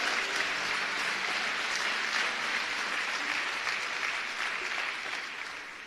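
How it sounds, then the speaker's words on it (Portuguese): A church congregation at a Lagoinha Niterói service applauds loudly and continuously, a dense wash of many hands clapping that fades slightly at the end, with no speech over it. "Se for para Ele, você pode aplaudir mais forte."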